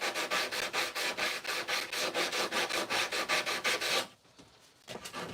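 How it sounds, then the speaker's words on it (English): Sandpaper rubbed by hand along a wooden handle, rounding its edges, in steady rhythmic back-and-forth strokes, about twenty close scratchy passes that stop abruptly near the end, followed by a brief quieter rustle. "So sometimes hand sanding is the best way for sure."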